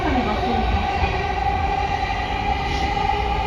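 A Sobu Line commuter train in Tokyo runs steadily along the track near Yoyogi, with a continuous rolling rumble and a faint high whine from the cab, loud and unbroken throughout.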